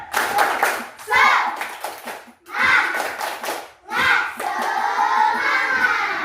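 Children in a classroom clap together in a brisk rhythm, in loud, close bursts with group voices chanting along.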